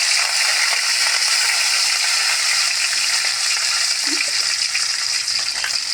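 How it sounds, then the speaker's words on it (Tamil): Shallots and curry leaves frying with mustard seeds in hot oil in a radish recipe, giving a loud, steady close-up sizzle that runs without a break and with no talk. "அது கூட சின்ன வெங்காயமும் கருவேப்பிலையும் சேர்த்து போட்டுக்கலாம்."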